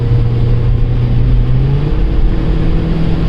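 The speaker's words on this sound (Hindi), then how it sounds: "एग्जॉस्ट की बड़ी सही आवाज़ आ रही है" Inside a Volkswagen Polo GT TSI, the engine and exhaust hum loudly and steadily as the car accelerates, a rising drone that shifts pitch partway through.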